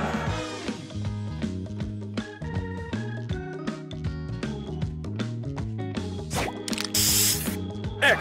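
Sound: spray booster effect in Match Master video game

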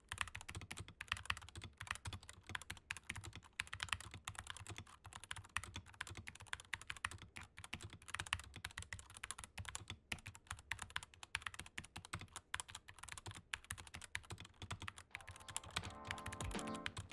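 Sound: mechanical keyboard typing, brown switches

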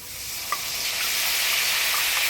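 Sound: potatoes frying and stirred in spiced tempering oil

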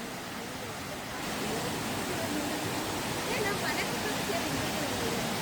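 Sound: Irupu waterfall (Lakshmana Tirtha) in Kodagu

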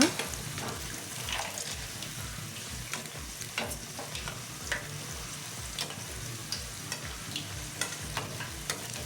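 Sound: vegetable fritters frying and being stirred in pan

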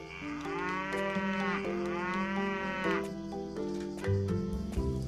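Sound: cows mooing in a barn in the video game Doraemon Story of Seasons

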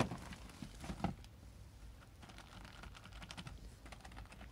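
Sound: typing on Esprit 125C terminal keyboard

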